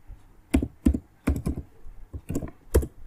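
Keys on a computer keyboard tapped while HTML is typed into Notepad, a sparse run of separate clicks and clacks with short gaps between them, close and clear with no talking.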